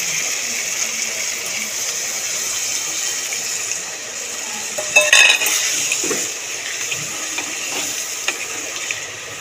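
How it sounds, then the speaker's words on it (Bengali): Water goes into a pan of potatoes and spice masala frying for a cauliflower-potato curry, bringing a sharp sizzling burst midway over a steady background hiss and light clinks of a utensil. "এবার পরিমাণ মতন জল দিয়ে দেবো।"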